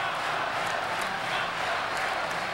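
A football stadium crowd at a Brazil versus Croatia match roars steadily and loudly, a dense continuous wall of cheering and chanting with no breaks.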